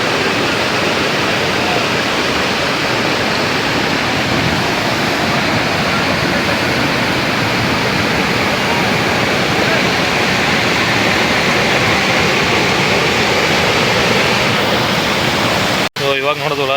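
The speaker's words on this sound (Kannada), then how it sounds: "ನೀರು ಹರ್ಕೊಂಡ್ ಬರ್ತಾ ಇರೋದು" Mookanamane Abbi waterfall near Sakleshpur, Karnataka, water pouring down in a loud, unbroken close-up roar that holds steady throughout.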